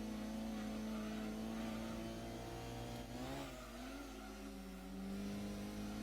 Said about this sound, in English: Those are some high revs.